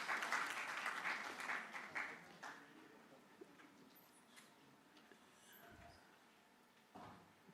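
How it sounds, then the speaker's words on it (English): Applause for a departing chief guest at a university innovation and exhibition week, fairly loud clapping at first that thins and fades into a quiet room, with a few scattered claps near the end. "Please clap for our chief guest as they make their way out."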